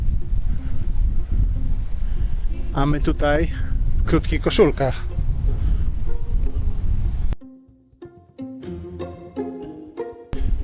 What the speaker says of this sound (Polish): Wiatr wieje i się zaczyna robić zimno.